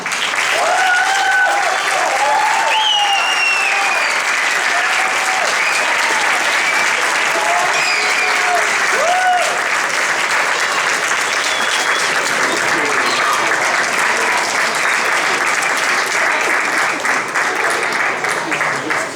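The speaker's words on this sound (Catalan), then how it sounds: "anem a donar un fort aplaudiment als seus capdavanters" Sustained, loud applause fills a presentation event in Alboraia as three guests go up on stage, with a few voices and whistles rising above the steady clapping throughout.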